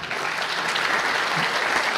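A crowd applauds steadily, dense clapping from many hands that holds at an even, full level throughout with no gaps.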